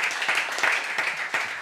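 Applause from a TV studio audience in a French game show, a steady wash of clapping hands heard alone with no voices over it.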